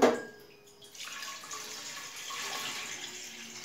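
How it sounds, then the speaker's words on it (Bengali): Tap water runs steadily into a large cooking pot, a continuous hissing splash filling the pot for a few seconds after a brief opening clatter. "এই পাত্রের মধ্যে আমি 1/3 ভাগ জল দিয়ে দেব।"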